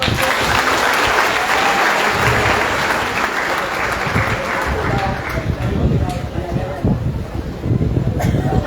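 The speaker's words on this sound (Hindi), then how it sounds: "ताली बजाओ एक बार इस बच्चे को।" Audience applause filling a college hall for a child singer at a spiritual discourse gathering, sustained and dense throughout, with a voice speaking over it.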